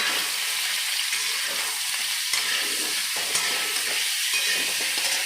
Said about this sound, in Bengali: সয়াবিনটাকে সিদ্ধ করে ভাজছি